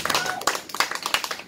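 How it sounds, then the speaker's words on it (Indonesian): An audience in a public speaking class claps, a brisk, close burst of hand claps with several overlapping hands, short and lively. "Kita kasih tepuk tangan untuk kita dulu."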